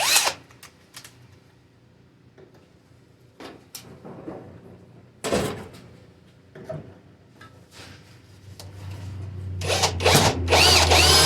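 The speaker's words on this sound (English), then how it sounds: "We'll just go ahead and grab this drill." A handheld power drill bores a hole during bed repair work on a 1980 CJ7 Jeep. Short whirring bursts come at the start, in the middle and at the end, separated by quiet gaps with faint handling noises.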